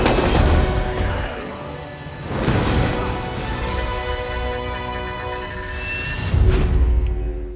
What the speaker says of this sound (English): ending his life in a powerful explosion